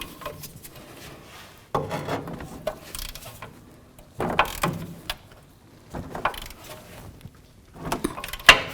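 Torque wrench tightening a front strut bolt on a 2003-2009 Toyota 4Runner: bursts of close, rasping ratchet clicks and metallic grinding in several short pulls separated by pauses.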